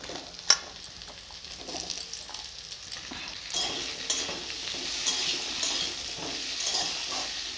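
Potato pieces drop into hot oil in a home kitchen pan: a sharp clatter at the start, then a rising, steady sizzle with stirring scrapes continuing close up.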